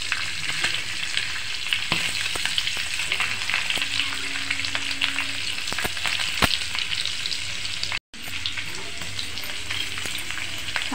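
Tawa masala eggs frying in oil on a griddle, a steady close sizzle with small crackles and occasional stirring scrapes, continuing throughout with one brief cut.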